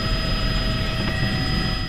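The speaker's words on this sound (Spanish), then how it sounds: "Comienza la carrera de despegue." A Boeing 737-200 jet begins its takeoff roll with a loud, steady engine roar and a high whine running throughout, heard close and continuous with no pauses.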